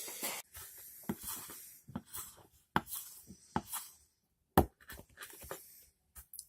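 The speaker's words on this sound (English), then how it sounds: "Let's do a little bit of cutting. Got some paracord here. Zips right through, hardly any effort required at all." An HX Outdoors DM-003 Damascus stainless steel knife slices through 9-strand paracord in a string of quiet scraping, rasping cuts with brief pauses, close but faint and without talking.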